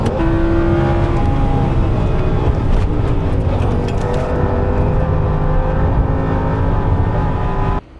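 An Audi R8 GT3 race car, home-built in a shed, driving a lap: a loud, close engine roar with shifting revs and gear changes throughout, cutting off abruptly at the end.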